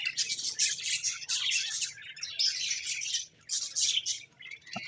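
Cockatiel chicks inside a wooden breeding box give continuous shrill, raspy begging chirps and squawks in close, overlapping bursts with a brief pause midway.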